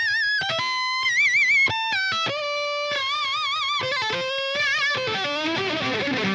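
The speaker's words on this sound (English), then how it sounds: "That's how to do pinch harmonics on the electric violin." An electric violin played through distortion rings out sustained, squealing pinch harmonics with wavering vibrato, a run of bright piercing notes that shift pitch and grow denser toward the end.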